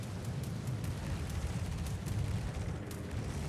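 A World of Warships naval battle booms as an enemy battleship is destroyed, a dense low rumble of explosions and gunfire rolling steadily, fairly faint and without speech.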